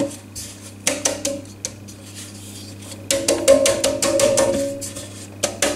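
A floured cake tin for a vanilla pound cake with chocolate chips is tapped to knock off excess flour. Sharp, close metallic knocks come in quick bursts with short pauses between them.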